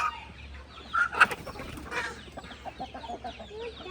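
Chickens cluck on a small farm, a few close squawking calls bunched together early and then softer scattered clucks, with no one speaking.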